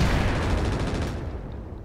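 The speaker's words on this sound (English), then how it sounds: "want the shotgun to land first and open up holes for the machine gun to follow up with" Mech shotgun blast and machine gun fire in the mech combat game Roguetech, a dense, continuous roar of rapid gunfire that stays loud and thick before thinning slightly near the end.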